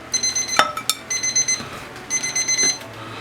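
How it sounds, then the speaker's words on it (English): A kitchen timer goes off after three minutes of boiling broccoli for orecchiette, beeping in clear, close, repeated bursts with a couple of small clinks in between. "There's my 3-minute timer going off."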